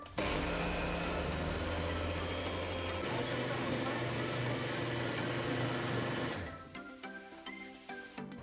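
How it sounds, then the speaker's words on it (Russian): A blender whirs loudly and steadily, mixing melon, sugar and sour cream for a cake filling, then winds down and stops with a few clatters afterward. "Включаю блендер и вымешиваю ингредиенты до получения однородной массы."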